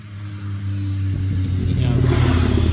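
Road traffic going past an outdoor spot: a low engine drone swells, and a broad whoosh builds near the end as a vehicle closes in.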